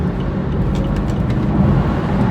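A BMW F32 4 Series car driving with paddle shifting, heard as a steady, loud engine and road rumble from inside the cabin.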